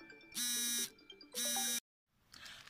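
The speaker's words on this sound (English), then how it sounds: "I've got an alarm going." An alarm or buzzer sounds in two loud, sustained bursts, each about half a second long, separated by a short pause, then cuts off abruptly into silence before faint background noise returns.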